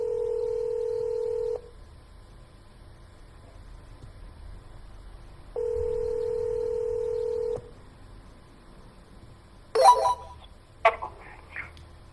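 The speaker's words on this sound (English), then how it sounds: "Somebody answer the phone." An outgoing telephone call rings twice as long steady electronic ringback tones separated by a pause, followed by clicks and a short clatter as the line connects.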